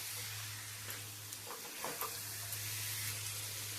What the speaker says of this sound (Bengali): ভালো করে জলপাইয়ের সাথে গুড়গুলোকে মিশিয়ে নেব